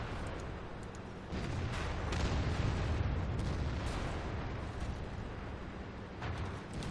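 Heavy rumbling artillery fire and explosions in World of Tanks, a sustained low booming roar that swells after the first second and stays fairly loud with scattered sharp bursts.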